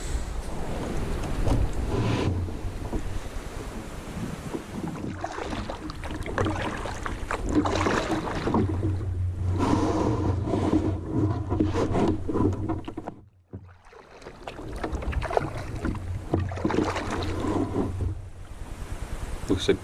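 A canoe is paddled across Long Pond in the Adirondacks at sunset, with continuous soft water swishes and splashes from the strokes, light hull knocks and a low wind rumble.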